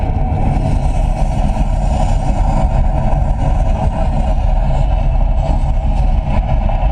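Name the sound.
simulated rocket liftoff on an Epcot Mars mission ride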